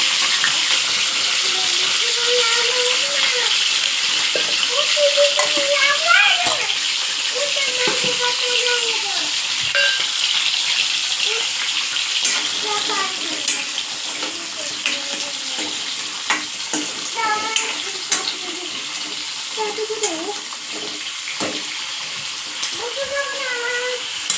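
Chopped drumstick pods and cumin seeds stir-fry in hot oil over low heat, giving a steady close sizzle with occasional scraping stirs, while a person talks over it.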